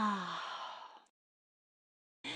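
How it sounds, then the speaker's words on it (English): A video game character, Ava, gives a short breathy yawn lasting about a second, then a pause of silence before a brief muffled burst of sound at the end. "It was just a little yawn, nothing to worry about."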